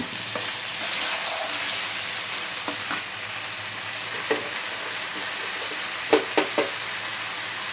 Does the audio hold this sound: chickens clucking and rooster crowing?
no